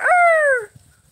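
A Rhode Island Red rooster gives one loud, close call of under a second, a strained, falling, harmonic cry, then quiet outdoor background.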